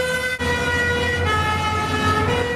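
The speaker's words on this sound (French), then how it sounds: "un camion de pompiers s'approche. Et là, il s'éloigne." A fire truck siren sounds loud and close, holding a strong, steady tone with a brief dip near the start over a low traffic rumble.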